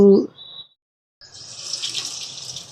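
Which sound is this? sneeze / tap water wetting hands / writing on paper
tap water wetting hands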